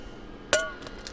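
An egg cracked against a bowl for a half-and-half custard mix, one sharp ringing clink followed by a few fainter taps, close and alone.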